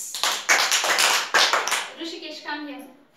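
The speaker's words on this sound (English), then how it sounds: "three claps." Students in a classroom listen-and-act activity clap their hands in a quick, loose burst of sharp claps, followed by a short spoken voice.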